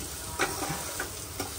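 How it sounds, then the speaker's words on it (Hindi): Carrots and capsicum stir-fried in a pan with chicken: a steady close sizzle, broken by a few soft scrapes of a spatula. "अभी गाजर और शिमला मिर्च डाल रही है, उसको थोड़ा अच्छा भून लेंगे।"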